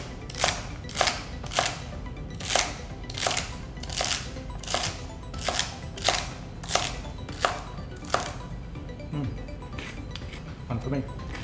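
A knife chops vegetables on a board in a steady series of about fifteen crisp, close knocks, slowing near the end, with a voice heard speaking in the background.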